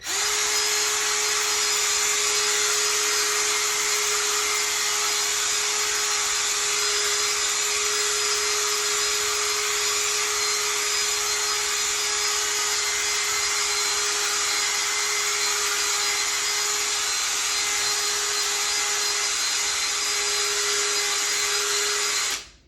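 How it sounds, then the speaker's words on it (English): Ryobi power scrubber with a tile scrubbing pad running on a kitchen floor, a steady, continuous high whine with a constant motor hum, close and unbroken until it cuts off at the end. "let's give it a shot with the other tile scrubbing pad. This is once again a Ryobi product."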